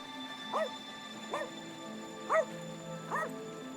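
Game dog in Rainswept giving four short yelping barks and whimpers, spaced about a second apart, over a steady hum of background game music.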